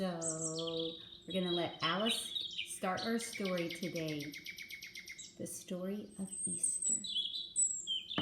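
Robins sing as a bird chirping sound effect, with bright repeated tweets and short trills scattered throughout while a person talks over them.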